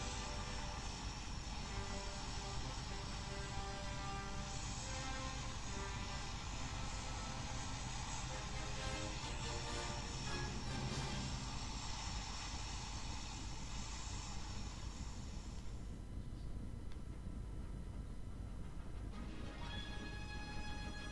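The airplane in the mobile game PUBG Mobile drones with a steady, loud engine hum that shifts in tone partway through, with no voices.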